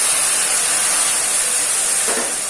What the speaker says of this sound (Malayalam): ചൂടുവെള്ളം ഒഴിച്ചു കൊടുക്കാം